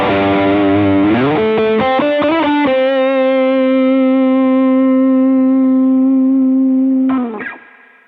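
A distorted electric guitar played through an Eventide H9 compression effect placed after the distortion: several picked notes and a chord, then one long sustained note ringing evenly for seconds before a final slide and a fade.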